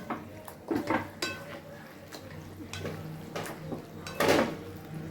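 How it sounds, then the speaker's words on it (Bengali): Meat frying over low heat for a Rajasthani laal maas curry is stirred in a pan, giving intermittent scraping and metallic clinks of a utensil against the pan over a faint background sizzle. "মাংসগুলোকে দিয়ে হালকা আঁচে ভালো করে নেড়ে একটু ভাজা ভাজা করে নিতে হবে"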